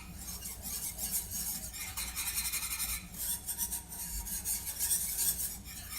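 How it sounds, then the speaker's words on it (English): A whisk scrapes and rasps steadily through chocolate syrup in a pot, a continuous soft rubbing stir with small metallic ticks, fairly quiet and close with no talk. "I gotta whisk my chocolate."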